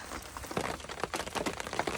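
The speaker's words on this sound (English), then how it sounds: "Nothing much left to do after dinner except just kind of sit and enjoy the sounds of the rain" Rain falls at a campsite in the East Texas woods, scattered drops tapping and pattering on a nearby surface in an uneven rhythm over a soft background wash, fairly quiet with no talk.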